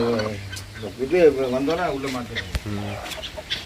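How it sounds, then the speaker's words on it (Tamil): Farm chickens cluck and squawk close by in a rapid run of calls. A rooster is among them, a brief sharp knock is heard partway through, and faint background noise runs underneath. "கோழிகள் நிறையா இருக்குது"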